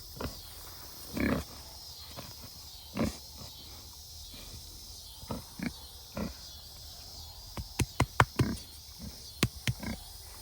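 Scattered pig grunts, a few isolated low snorts early on, then a quicker cluster of sharp grunts near the end, moderately close over quiet background.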